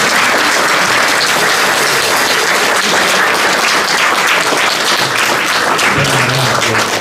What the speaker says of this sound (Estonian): Teile suure aplausi veel.